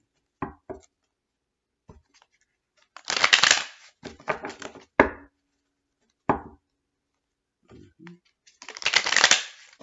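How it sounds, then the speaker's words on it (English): Tarot cards are shuffled in several separate bursts of rapid riffling and flicking, with quiet pauses between them. "One more shuffle. Spirit said one more after this. Okay, one more shuffle."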